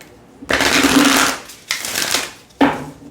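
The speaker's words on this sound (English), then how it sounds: "Shuffles nicely with a ripple" Cards are riffle shuffled three times, a long buzzing ripple followed by two shorter ones, close and crisp.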